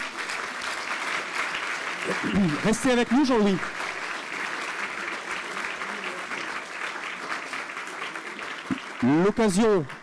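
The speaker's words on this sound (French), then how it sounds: "on peut vous applaudir" An audience at the Prix Jeune Espoir 2015 award ceremony of the Fondation Norbert Ségard keeps up dense, continuous applause, while someone speaks briefly over it near the start and again near the end.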